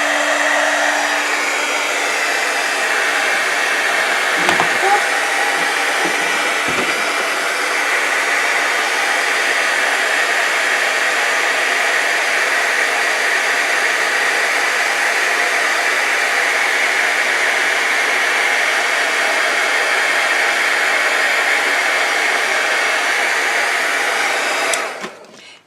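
A heat tool blows steadily on Nuvo expanding mousse, a loud, constant hair-dryer-like whoosh that runs unbroken for about 25 seconds with a few faint clicks early on, then cuts off abruptly at the end.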